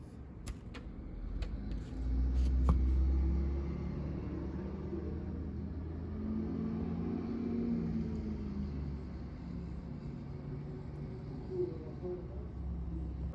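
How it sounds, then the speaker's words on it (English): A bus drives away outdoors, its low engine rumble swelling briefly then settling into a steady, moderately distant drone with faint clicks at the start. "So I'll show you guys a video of the bus leaving."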